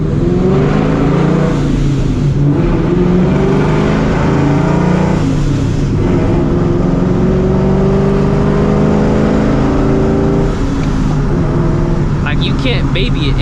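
Supercharged 450 hp 2V Mustang GT with an aggressive McLeod clutch, its engine droning loud and continuous through gear changes while driving, with rising and falling revs and a voice talking over it.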